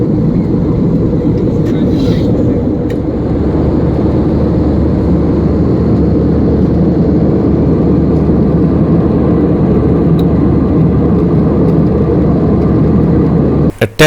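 Jet engines of a Qatar Airways airliner bound for Helsinki roar during takeoff, heard from inside the cabin as a loud, steady low rumble that continues unbroken throughout.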